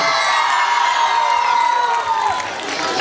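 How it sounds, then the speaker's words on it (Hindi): Crowd at a primary and high school annual celebration cheers, whoops and claps for the winning 10th-grade final-match team, a loud, dense roar with children's shouts running steadily throughout. "उनके लिए एक बार जोरदार तालियां।"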